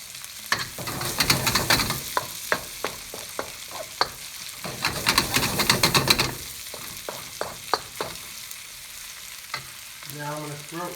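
Green beans and other vegetables sizzle as they brown in a pan, a soft steady hiss broken by regular scraping and tapping strokes of a utensil, with louder stirring bursts in two stretches.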